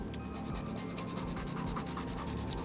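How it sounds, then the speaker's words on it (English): An acrylic nail extension being filed with a nail file at an angle, tapering the free edge of the product: a steady, close, rapid scratchy rubbing with quick back-and-forth strokes, continuous and alone. "You have to file only a very little bit."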